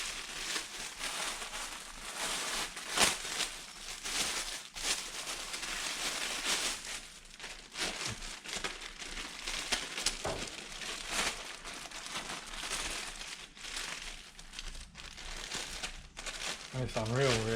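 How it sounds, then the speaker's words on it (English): A plastic bag holding small plastic parts crinkles and rustles continuously as it is handled up close, with brief louder crackles now and then. "another bag of plastic bits which are slightly different"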